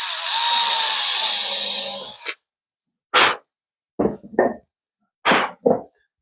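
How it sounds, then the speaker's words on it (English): A power drill whines continuously for about two seconds while pre-drilling wood, then stops, followed by several short separate bursts of drilling. "just going to change that drill bit for something a little bit smaller, just to pre-drill these a little bit"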